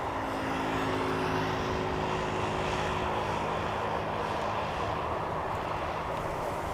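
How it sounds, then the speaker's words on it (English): Turkish Airlines Airbus A330 arriving from Istanbul at Amsterdam Schiphol's Polderbaan runway, a distant steady jet engine roar and rumble holding at constant loudness throughout. "also have a Turkish A330 coming, arriving from Istanbul."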